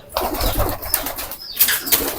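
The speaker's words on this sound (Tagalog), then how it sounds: "Dito naman itong cock section ko. Naririto ito mga ibon ni pare sa amin, mga Victor Lim." Racing pigeons in the cock section of a loft flap their wings in short bursts, with soft rustling and a faint coo nearby; the sounds are brief, close and uneven.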